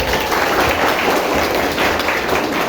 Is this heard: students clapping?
yes